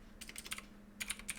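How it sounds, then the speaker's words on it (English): Quiet typing into a browser address bar on a computer keyboard: two short bursts of rapid, light key clicks with a gap between, close over a faint steady hum. "So I'm just typing this into an address bar."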